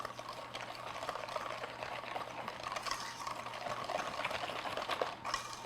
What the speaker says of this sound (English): And I'm just going to whisk this in.